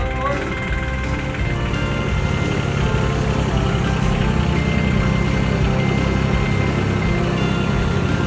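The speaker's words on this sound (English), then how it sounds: "Cody's just backing the tractor down there now" Tractor engine rumbling steadily as it reverses downhill while paying out a winch line, a continuous low, heavy drone that stays loud and even throughout, with a voice talking over it.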